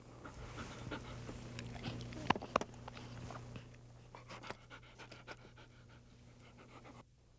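A dog pants rapidly and steadily at close range during retrieve hold training, with a couple of sharp clicks or bites and light movement, and no voices.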